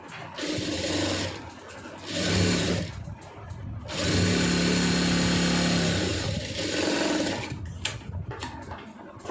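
A sewing machine runs in several bursts of stitching, joining a fabric panel with a single line of stitches, loud and close, with short pauses between runs and faint voice underneath.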